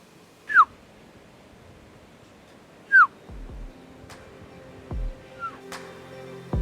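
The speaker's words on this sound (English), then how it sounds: "then we decided to get him to his feet by giving a whistle" Two sharp rising whistles from a person, a few seconds apart, ring out clearly over quiet outdoor ambience while hunting sika deer in New Zealand, followed by a few soft thuds and faint rustles.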